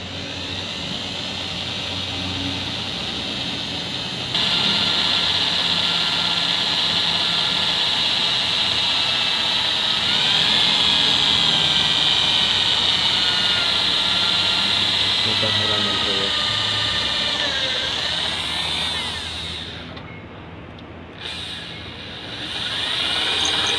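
A steady high-pitched electric drill whine runs continuously, loud and close, with a brief dropout near the end; a voice talks faintly underneath.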